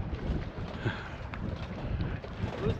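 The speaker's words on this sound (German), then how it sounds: "Die Sonne scheint, der Wind im Yachthafen pfeift" Wind blowing through a yacht harbour at Warnemünde, a steady rushing gust noise with buffeting against the microphone and faint creaks, continuous and fairly loud.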